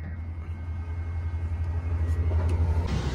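A Bharat Benz company truck arriving, its engine a steady low diesel rumble that grows slightly louder and pulses toward the end as it draws near.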